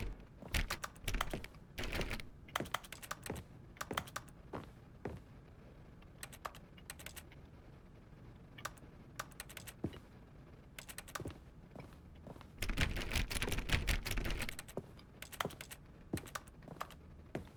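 Keyboard typing clicks from The Stanley Parable, sharp irregular keystrokes scattered throughout with a dense burst of rapid clicking near the end, close and fairly loud with no talking.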